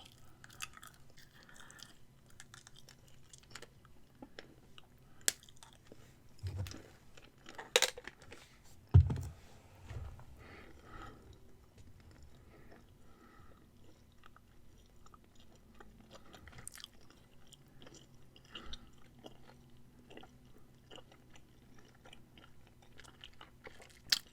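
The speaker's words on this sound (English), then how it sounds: "I should probably chew some gum." Gum chewing in a close-miked ASMR setting: soft wet mouth clicks and crunchy chews scattered through a quiet background, with a few louder smacks and taps midway.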